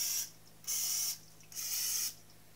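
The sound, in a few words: baking spray sprayed onto muffin tin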